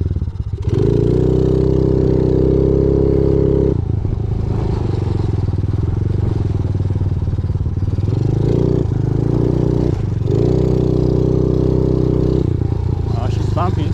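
A pit bike engine revs and drones loudly while riding over bumpy dirt trails, the pitch rising and falling with throttle changes and briefly easing off between pulls, with clatter from the rough ground.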